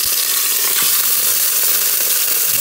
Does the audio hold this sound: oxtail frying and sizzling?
yes